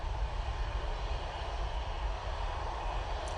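A Jet2 Boeing 737-800 gives a steady, loud, broadband engine roar that holds without a break, a deep rumble under a hiss.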